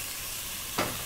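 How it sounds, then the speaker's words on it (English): Green bananas and water going into a hot pot for Kenyan matoke in groundnut sauce, a brief splashing hiss over a steady sizzle with no talking. "And into that, you're going to add your bananas and some water."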